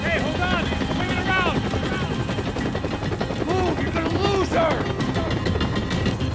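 Helicopter rotor thrumming steadily throughout a Max Payne 3 action scene, loud and continuous, with bursts of gunfire and shouted voices over it.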